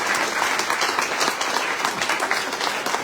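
Steady audience applause at a book talk, a dense, even patter of many hands clapping at moderate loudness throughout.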